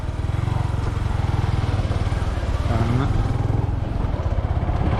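A motorcycle climbs a hill road toward a hilltop near Thodupuzha, its engine droning steadily and close throughout, with someone talking over it.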